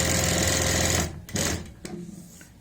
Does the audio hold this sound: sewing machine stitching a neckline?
yes